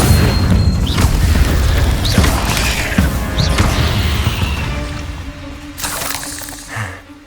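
Incendio fire spell blasts in the Hogwarts Legacy video game, several loud bursting booms across a dense, continuous din of combat, with a quieter tail at the end.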